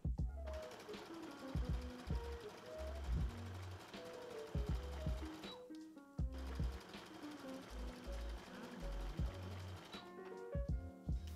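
Home sewing machine stitching the side seams of a swimsuit bottom, running in repeated short bursts with brief pauses, a rhythmic mechanical whirring heard up close and alone.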